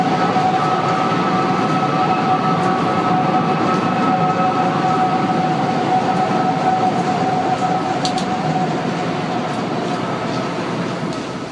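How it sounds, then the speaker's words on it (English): A steady, eerie two-toned whistling cry from the One World Trade Center tower hangs continuously over a dense roar of city or rail noise, loud and unbroken throughout. "the tower began whistling again with a slightly different two-toned cry, calling it unmistakable and very chilling"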